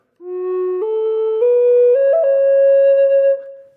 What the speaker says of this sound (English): we're going to do two grace notes before that main note,